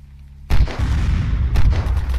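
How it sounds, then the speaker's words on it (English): Gunfire in the video game Unturned: a sudden loud report cracks in at half a second, followed by a sustained rumbling tail and a second sharp burst about a second later. "Wait, there's shots. Shots fired."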